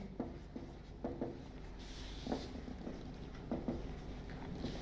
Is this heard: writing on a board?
yes